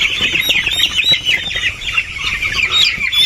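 Chickens, young chicks, being given eye-drop vaccine peep and cluck continuously and loudly at close range, a dense chorus of overlapping high calls with no pauses.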